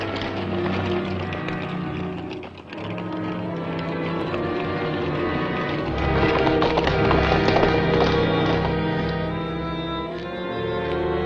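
A mare being ridden, her hooves clip-clopping in an uneven rhythm under a loud orchestral music score.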